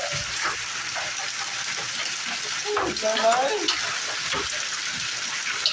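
Dense hail clattering nonstop on a concrete roof, a loud, steady crackling rattle filling the scene, with a person exclaiming briefly over it.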